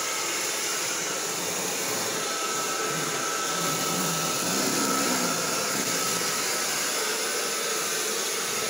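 A hair dryer blows steadily on a windowsill to heat it before applying shrink-wrap window insulation film, a continuous close whooshing hiss that holds level throughout.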